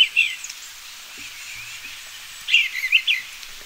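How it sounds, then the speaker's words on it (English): A bluebird sings in a forest, two bright bursts of chirping song at the start and end with quieter background between, no talking. "It's a bluebird."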